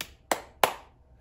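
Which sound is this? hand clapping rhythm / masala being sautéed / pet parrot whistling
hand clapping rhythm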